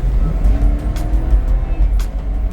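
INEOS Grenadier with a BMW engine accelerating onto a highway, a loud steady low engine drone with road rumble building inside the cabin.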